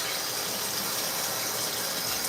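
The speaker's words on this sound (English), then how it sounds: "Hot tap water doesn't have to be filtered or whatever." Hot tap water gushes steadily into a non-stick pan for pasta, a continuous broadband splashing rush that stays loud and even throughout with no talking.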